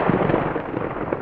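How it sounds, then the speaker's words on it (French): A sharp, loud thunder clap crashes and rumbles for about a second as a sound effect in a spooky narrated Halloween story, dense and booming with no voice over it. "Un éclair retentit."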